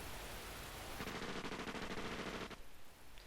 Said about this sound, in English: he heard the first sounds of gunfire